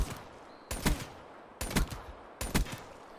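Razorback gun in a video game firing at long range: four separate bursts of shots spaced under a second apart, each a sharp loud crack with a short tail, no talking.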